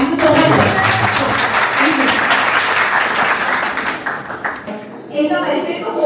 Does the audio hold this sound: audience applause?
yes